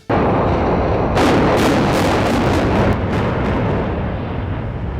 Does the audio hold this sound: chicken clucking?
no